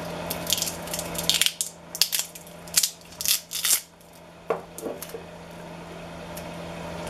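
Sharp snipping and crunching as 18650 battery cells are cut out of a DIY power bank circuit board, several close, irregular cuts in quick bursts followed by quiet.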